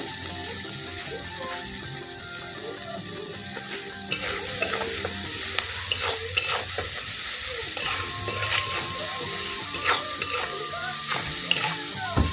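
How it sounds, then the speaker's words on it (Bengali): Onion and chili fry with salt in oil, a constant close sizzle broken by frequent scraping and tapping of a spatula stirring the pan, with no one talking. "লবণ দিয়ে সুন্দর করে পেঁয়াজ আর মরিচটাকে ভেজে নিব ভালো করে।"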